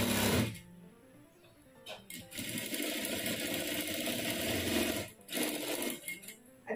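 A sewing machine runs in two sustained, whirring bursts as it stitches the shoulder seam of a princess-cut blouse at half an inch, with short quiet pauses between the runs.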